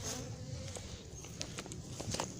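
Honeybees from an opened queenless colony at Montgeron, a faint continuous buzz with several bees passing close in brief swells over a quiet background.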